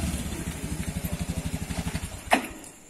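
A motorcycle engine idles nearby with a steady, evenly pulsing throb, followed by a single sharp knock just before the sound fades out.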